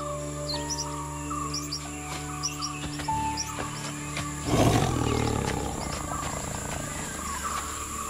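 A male tiger in the wild gives one loud, rough roar partway through, heard amid a background of chirping birds and steady insect hum.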